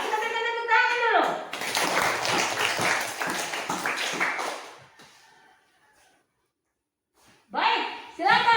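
A classroom of students claps for a group that has just finished presenting, a burst of dense hand-clapping lasting a few seconds that trails off into near silence. A voice speaks just before it, and voices pick up again afterward.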